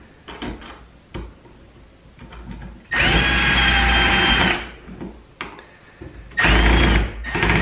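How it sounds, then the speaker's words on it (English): Cordless power screwdriver driving screws into a new door handle, two loud whirring bursts of a couple of seconds each, separated by clicks and handling noises. "It's important to set your screwdriver to a lower torque so that you don't overstrip it."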